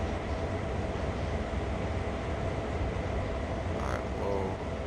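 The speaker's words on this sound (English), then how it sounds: "This train's going to be loud." A heavy coal train in the Train Sim World 5 video game runs with a loud, constant engine rumble and wheel roar that fills the scene without a break.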